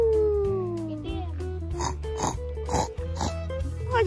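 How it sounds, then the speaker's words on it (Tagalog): Pig-like grunts and snorts from a wild boar on a mountain trail, a series of short nasal oinks at moderate distance, with a person talking over them. "Oh, may baboy. Yan po ata ang tinatawag na baboy damo."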